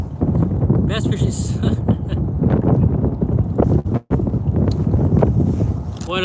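Strong wind buffets a kayak out on the water during a bass fishing trip, a loud, continuous roar of gusts over the microphone with a brief drop partway through. Someone talks over it.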